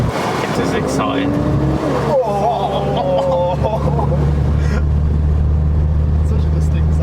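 A sports car engine drones steadily from close behind a Porsche on a car cruise, with a constant low rumble and a few rising revs, while people talk over it.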